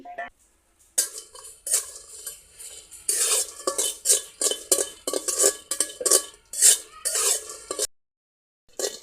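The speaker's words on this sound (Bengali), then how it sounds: "যেমন সুটকি ভাজা হয়ে গেছে" Dried Bombay duck (loitta) fish stirred in a hot frying pan, a utensil scraping in quick rhythmic strokes, close and fairly loud, with a faint sizzle beneath.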